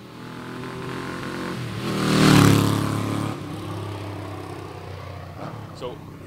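A 1979 Yamaha XS750 motorcycle with a stock exhaust swells to a loud, throaty growl as it passes nearby, then fades back into steady background noise.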